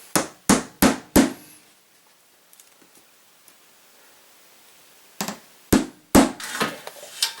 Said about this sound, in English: I'm just going to drive one here and drive one on the other side and then drive the other ones